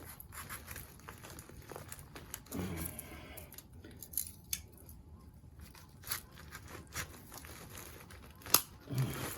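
Scissors scrape and creak as they are worked into a dense daylily clump to divide it in winter, with rustling leaves and a few sharp snips and cracks at close range.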